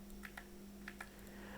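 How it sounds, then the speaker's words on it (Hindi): A few light key clicks from the arrow keys on a computer keyboard, pressed in quick pairs while working in CLO3D software. They sound faint and close against a steady low electrical hum. "2 दफ़ा लेफ़्ट की तरफ प्रेस कर दूँगा एरो बटन को कीबोर्ड से"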